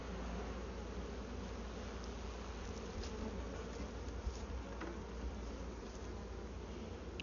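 A honeybee swarm being moved into a new hive gives a dense, steady buzzing hum, close and continuous, with no voices.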